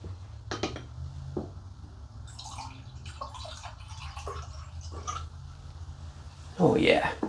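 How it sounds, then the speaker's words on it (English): Carbonated homemade hard lemon soda pours into a glass with a soft fizzing hiss and faint clinks, while a person talks nearby. "Oh yeah, nice fizzy carbonated lemonade, look at that."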